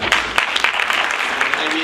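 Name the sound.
audience applause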